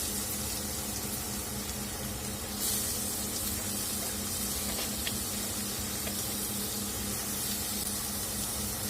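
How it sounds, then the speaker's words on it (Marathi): Chopped ridge gourd is added to lightly fried onion in a pan for a Solapur-style vegetable dish, giving a steady, close hiss and sizzle that swells briefly and carries on evenly, with no talk. "कांदा आपला हलकासा परतून झाला आहे तर आपण यामध्ये दोडका घालून घेणार आहोत"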